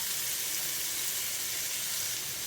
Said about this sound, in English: I love that sizzle sound